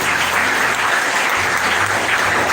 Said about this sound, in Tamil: உங்கள் கரகோஷங்கள் அவருக்கு நன்றியாக.